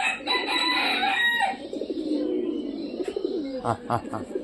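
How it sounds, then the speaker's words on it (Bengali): Pigeons of a mated pair give soft, rhythmic cooing calls close by, with a few sharper repeated call notes near the end over a steady background. "এই দেখেন এই কবুতরটা তারা করতেছে। এটা কিন্তু এই কবুতরটারই জোড়া।"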